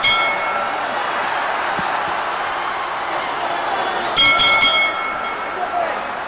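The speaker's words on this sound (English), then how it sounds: "There's the bell." Boxing ring bell clanging to end a round in the Ali–Frazier rematch, a brief cluster of bright metallic strikes near the end over steady crowd noise and a commentator talking throughout.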